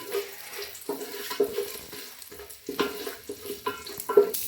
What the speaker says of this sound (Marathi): तेल गरम झालं आहे, तर आपण खडे मसाले टाकून घेऊया पहिल्यांदा